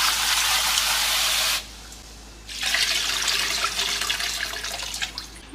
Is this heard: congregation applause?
no